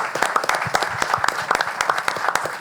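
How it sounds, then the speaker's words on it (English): An audience at a Washington Wizards event welcoming the 2025 NBA draft picks applauds the players' families, with loud, close, continuous clapping and scattered individual claps standing out sharply. "So a round of applause for the families"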